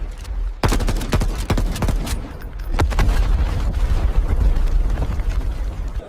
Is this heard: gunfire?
yes